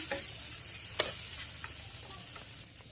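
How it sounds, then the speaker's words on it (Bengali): Hot oil and spices sizzle steadily in a frying pan, with a sharp burst as water hits it partway through, then the crackle continues and fades slightly. "এখন একটু পানি দিয়ে দিব মশলা কষানোর জন্য পানি দিয়ে দিলাম"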